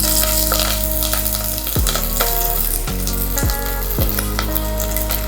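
Garlic and curry leaves fry in a pan while Tamil-style urad dal rice is being made. A steady, close sizzle runs throughout, with a few stirring scrapes mixed in.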